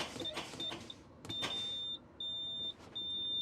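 Low air pressure warning buzzer in a truck cab sounds as a steady high-pitched tone in several bursts with short gaps, over faint clicks and cab noise.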